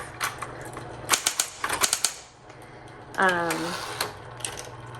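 Clattering keystrokes from a 1960s Coronet Electric 12 typewriter come in short bursts over a steady motor hum, followed by a brief rising mechanical whir.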